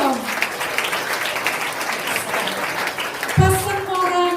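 An audience at an insurance-agent training session breaks into a dense, steady round of applause that lasts the whole stretch, with a voice speaking over it near the end.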